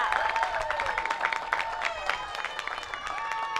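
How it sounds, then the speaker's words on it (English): An audience claps and cheers at the Erie County Fair, steady applause through the whole moment with tonal music or ringing running over it. "Give yourselves a round of applause from our fans here at the fair."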